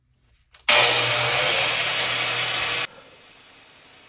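Bench grinder sharpening a lawn mower blade: a short hiss of metal on the wheel lasting about two seconds, loud and close, cutting off abruptly into a faint hum.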